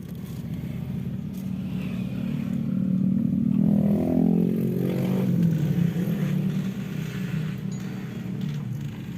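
A motorcycle rides along a mountain road through the village of Sembalun at the foot of Mount Rinjani, its engine droning steadily and close, swelling louder midway then easing, with no talk over it.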